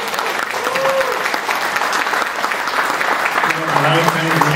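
Audience breaks into loud, sustained applause, a thick wash of claps that holds for several seconds while a few voices call out and cheer beneath it.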